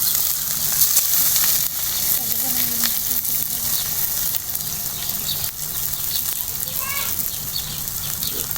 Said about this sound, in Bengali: এখন ভালো করে ভাজুন ভালো করে ভাজি করুন